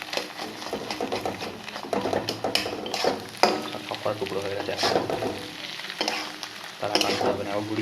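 Eggs frying in oil in a pan for restaurant-style fried rice, a close crackling sizzle with scraping and stirring of the spatula and occasional clinks, continuous throughout.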